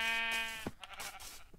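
A white sheep in the video game Minecraft gives a single short, nasal bleat up close, followed by faint background game noise.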